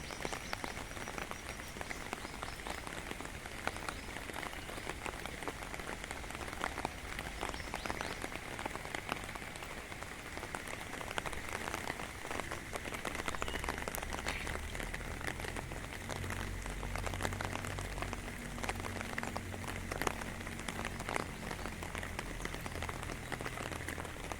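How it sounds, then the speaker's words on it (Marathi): Heavy monsoon rain pouring steadily onto surfaces beside a flooding river in the Konkan, a dense continuous patter with no pauses, nearby and fairly loud, with no voices. "पाण्याची पातळी वाढत राहिलेली आहे पाऊस भरपूर आहे"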